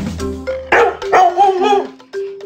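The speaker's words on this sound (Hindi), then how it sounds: "नहीं बाटलीटो, ये कुत्ते की आवाज है।" A dog barks in a few quick bursts, with short yips and whines, over soft background music.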